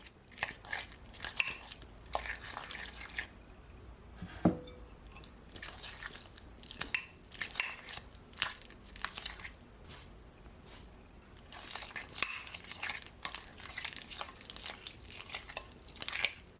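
Chicken stuffing with a small amount of onion stirred together in a bowl, giving soft, wet squishing and crunching sounds in irregular bursts, close and fairly faint, with occasional clinks against the bowl.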